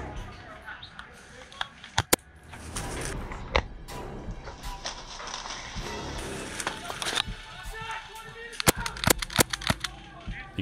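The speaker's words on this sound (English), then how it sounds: "He calls his hit after I shoot him a few more times with the SSX 23." Airsoft sniper rifle shots from an SSX 23 during outdoor ghillie-suit gameplay: sharp, snappy cracks, a close pair early on and a quick cluster near the end, over steady outdoor background noise.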